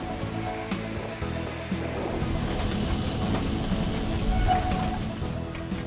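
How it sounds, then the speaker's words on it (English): A cable tram climbing a hill gives a steady, loud rolling rumble with faint rattling and clacking from the track, continuous and close, with no voices. "The tram climbing up the hill is also connected to the tram going down the"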